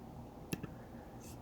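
A quiet mouse click, two quick soft taps close together followed by another faint click, in a near-silent room.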